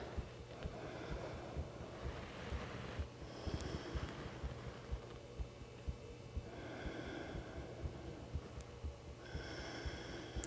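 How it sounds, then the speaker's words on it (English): Slow, steady breaths in and out through the nose during a seated yoga class, soft and close with a faint airy hiss between breaths. "Breathing in and out."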